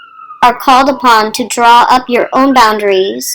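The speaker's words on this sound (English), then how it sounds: "excuse the siren." An emergency vehicle siren wails faintly in the distance outside, barely audible beneath a close, clear voice talking over it throughout.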